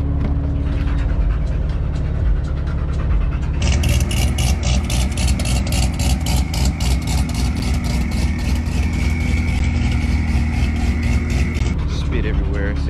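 A car engine with a performance camshaft idles with a loping, choppy rhythm, then revs slightly and settles into a steady, lumpy idle close by.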